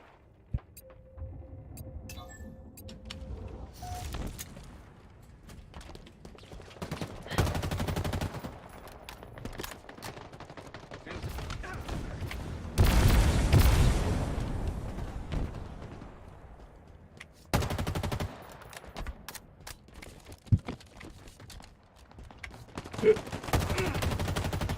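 A video game weapon fires in rapid machine-gun bursts, loud and close, separated by short gaps, with scattered single shots and a faint voice now and then.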